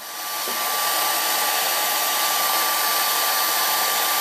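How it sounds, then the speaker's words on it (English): A hair dryer switches on and blows steadily onto a watercolor painting, a loud broadband whoosh with a faint high whine, continuous and close. "to speed up the drying, I will take a hairdryer"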